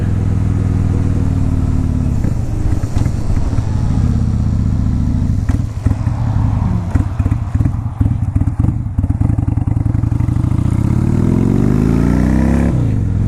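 A 2002 Honda VLX 600 Shadow motorcycle engine runs loud and close on a test ride, its steady low rumble rising and falling with throttle changes and shifts.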